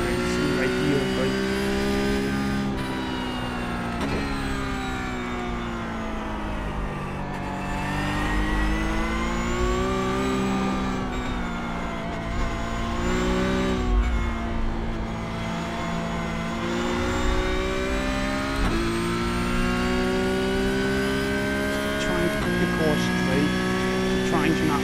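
Porsche Cup race car engines at the Charlotte Roval in the iRacing simulator, a steady, loud mid-pitched engine note rising and falling with shifts through the whole stretch, with a voice talking over the top throughout.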